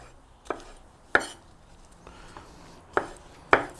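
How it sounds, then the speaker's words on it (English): Peppers roughly chopped with a Kitsune 8-inch Damascus chef knife, giving four or five crisp, separate knocks of the blade onto the cutting board at an uneven pace, close and clear. "these peppers, I just need a rough chop as well"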